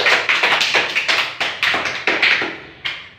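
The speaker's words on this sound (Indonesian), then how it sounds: "Tepuk tangan untuk kita semua." A classroom group claps in a brisk, patterned rhythm of bright, close bursts that keep a steady beat with brief pauses, with no talking.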